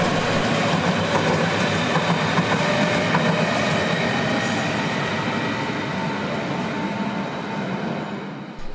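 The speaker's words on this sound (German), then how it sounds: "halten dabei die S-Bahn-Züge aus dem Nord-Süd-S-Bahn-Tunnel und an den mittleren beiden Gleisen, also Gleis 2 und 3, die Züge der Ringbahn" An S-Bahn train rumbles and clatters steadily at Berlin-Gesundbrunnen station, the loud rolling noise easing slightly toward the end.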